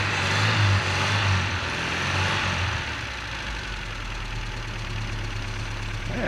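A Chevy LUV pickup with a freshly replaced alternator idles steadily outdoors, its engine giving a close, continuous low rumble with a faint rattle and a slight drop in level after a few seconds.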